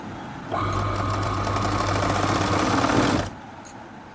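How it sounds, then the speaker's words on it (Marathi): A sewing machine stitches a pocket onto palazzo pants in one continuous, close, loud run of about three seconds with a steady humming whir, then stops. "एक भागावर पूर्ण सिलाई मारून घ्यायची खालपर्यंत"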